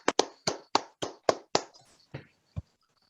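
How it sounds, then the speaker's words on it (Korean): A handful of people clap sparsely to welcome a professor at a policy forum: about nine separate, close claps in an uneven rhythm, thinning out and stopping within three seconds. "우리 이정철 교수님을 뜨겁게 박수로 모시겠습니다."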